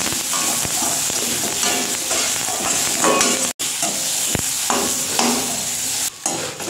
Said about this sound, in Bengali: এই দিয়ে ভালো করে কষিয়ে নেব